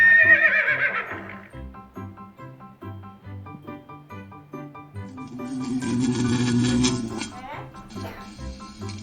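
A horse lets out a loud, shrill whinny at the start, followed by a second rougher neigh and snorting later, over a steady plucky background music bed.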